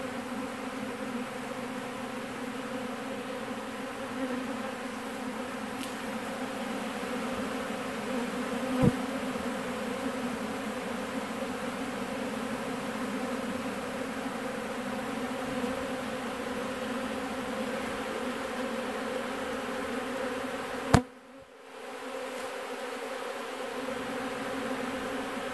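A steady, droning hum of many honeybees buzzing continuously during a honeybee removal, with a couple of brief sharp clicks partway through.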